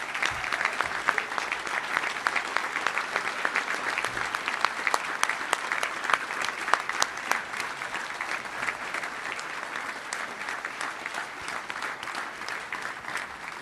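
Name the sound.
audience applause for sportsmanship award class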